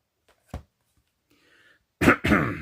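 A faint short sound, then a loud throat clearing in two quick rough bursts, close and without speech.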